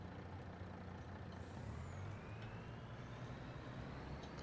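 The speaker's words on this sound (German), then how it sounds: "Aber der Sound von dem LKW ist schon geil." Truck in the Farming Simulator 22 video game, a faint steady engine rumble with a brief air brake hiss and a rising whine partway through.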